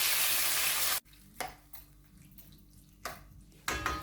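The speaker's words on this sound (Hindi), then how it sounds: "थोड़ी देर के लिए मैं ऑयल में चिकन को फ्राई कर लूँगी।" Boneless chicken pieces fry in oil in a kadhai, a loud steady sizzle that cuts off abruptly, leaving a quieter crackle with a few stirring bursts.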